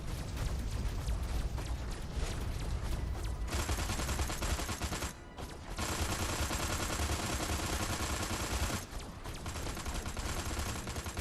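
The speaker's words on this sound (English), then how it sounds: "Let's get the old disintegrator ray back out again." Rapid, sustained bursts of weapon fire from the disintegrator ray in the video game Destroy All Humans, loud and continuous with brief pauses, dense crackling blasts layered with game effects.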